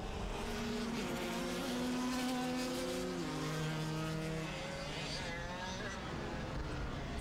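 Racing karts at a national sprint championship race track, Kartsport Southland Raceway, with buzzing two-stroke engines passing close and loud, their pitch sliding down as they go by, under faint commentary.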